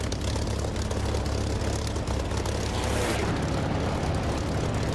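A military jet in the DCS flight simulator roars past in a fast, low, close pass, its engine noise a loud, steady, broadband rush filling the whole stretch.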